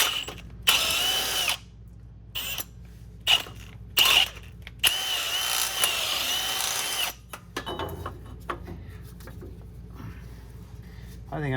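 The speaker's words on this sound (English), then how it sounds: "So I'm gonna use a ½ inch drill bit, and we're just gonna kind of go to make it just a little bit bigger" Power drill boring with a half-inch bit to enlarge a hole in a truck's lowering drop block, whirring in repeated loud bursts with short pauses, then quieter handling and mechanical clatter toward the end.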